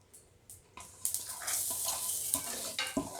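Grated coconut dry-roasting in a pan for Chettinad chicken gravy, faint at first, then a brighter scraping hiss as it is stirred, with irregular scratchy strokes.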